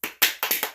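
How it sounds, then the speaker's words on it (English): A few sharp, close hand claps in quick succession, uneven in rhythm, with no voices. "Let's give her a round of applause."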